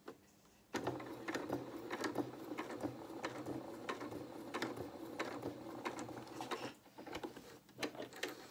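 A sewing machine runs steadily, stitching pockets onto a small wool coat, with a continuous mechanical whirr and rapid clicking that starts abruptly after a quiet moment, dips briefly near the end, then resumes close to the microphone.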